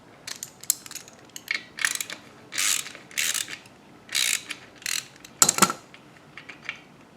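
A ratchet wrench backs out the oil drain plug on a Harley Davidson Softail Fatboy, making close, loud bursts of rapid clicking in short irregular strokes separated by brief pauses.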